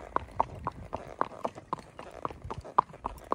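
A horse's hooves clip-clop at an even walking rhythm on an evening trail ride, steady, fairly close and clear throughout.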